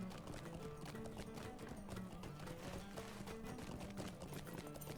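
Rapid, steady clip-clop of a horse mount's hooves in the online game Lord of the Rings Online, a slow first mount, running under dense in-game ambience and music without pause.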